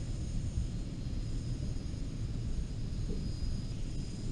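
A Eurofighter Typhoon jet taxis in the Falcon 4 Allied Force flight simulator with a steady, droning engine rumble and a high whine held at an even level the whole time.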